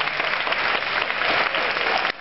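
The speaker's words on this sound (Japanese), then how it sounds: "リペイクの皆様、盛大な拍手 をお送りください" An arena audience at a Japanese mascot-class title match applauds heavily, a loud dense wash of clapping that cuts off abruptly near the end.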